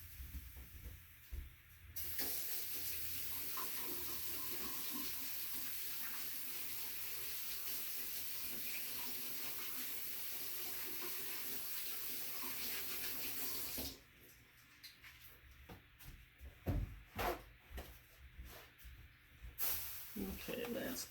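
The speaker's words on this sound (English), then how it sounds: "let me just go wash my hands and be right back." Tap water runs steadily into a sink as hands are washed during a paint-pouring session, a continuous close hiss that then cuts off, followed by quieter clattering and handling sounds.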